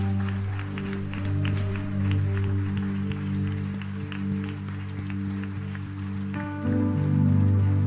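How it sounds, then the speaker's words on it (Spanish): A congregation at a church service claps steadily over sustained organ or keyboard chords, the applause a soft, even patter beneath the music. "¿Puede darle un aplauso en agradecimiento al Señor?"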